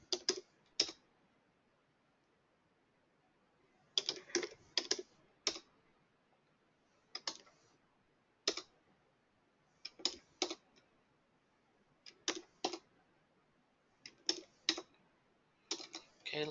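Someone types a password on a computer keyboard in short bursts of clicky keystrokes separated by quiet pauses, close and fairly soft, with no talking.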